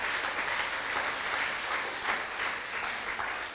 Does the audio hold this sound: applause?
yes